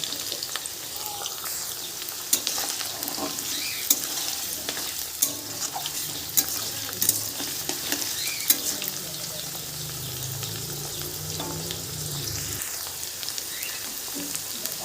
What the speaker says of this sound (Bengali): সমস্ত সবজিকেই আমি হালকা করে ভেজে নেব।